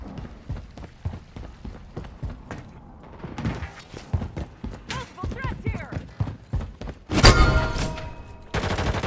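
Video game gunfire in Modern Warfare 3: rapid bursts of automatic shots and scattered single reports crackle throughout, growing into a loud dense volley near the end, with radio-style voice callouts mixed in.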